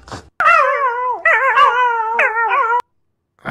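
A dog howls in two long, wavering, tuneful howls, close and loud, with a short yip before and after.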